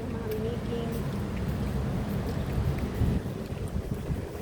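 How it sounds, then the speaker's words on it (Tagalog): Wind rushes and buffets steadily across an outdoor garden, a constant low roar with gusts swelling near the third second, with faint voices mixed into the blustery noise. "Sarap ng hangin."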